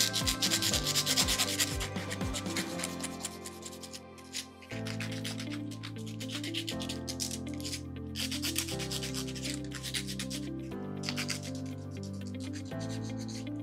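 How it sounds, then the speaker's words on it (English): Fine sandpaper smoothing a 3D printed clear aligner, a steady close rubbing and scratching that runs the whole time over background music, with no talk. "we're gonna do the final smoothing using a fine sandpaper"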